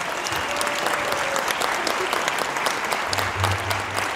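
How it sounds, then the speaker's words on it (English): An audience at a high school jazz band winter concert applauds steadily and loudly in a large room for several seconds, with faint crowd murmur underneath. "So please, a big round of applause for our parents and Booster E-Board."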